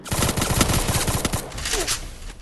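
Gunshots in the Free Fire battle royale game: a rapid burst of close, loud automatic fire in a steady rattling rhythm, thinning into scattered shots and background noise toward the end, with no talk.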